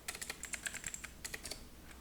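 Keys clattering on a computer keyboard in quick, irregular bursts of clicks, close and fairly quiet, with no voices.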